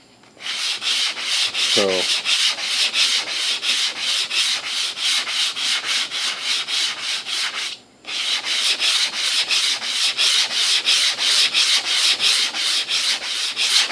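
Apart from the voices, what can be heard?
hand sanding a stained wooden clock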